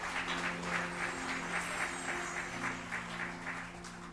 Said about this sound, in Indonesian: Berikan tepuk tangan lebih keras lagi.